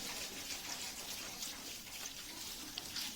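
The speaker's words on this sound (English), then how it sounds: "A final splash of water." Water poured over a compost pile of leaves and scraps, a soft, steady splashing gush heard close up, fairly quiet and continuous.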